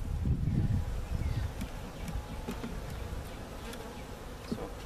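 Honeybees from a hive removed from a neighbor's house swarm around brood frames, a dense close buzzing that is loud at first and then stays steady, with individual bees zipping past.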